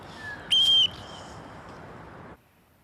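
A single short shrill whistle blast rises out of steady background noise, loud and near, lasting about a third of a second before the noise continues and then drops away.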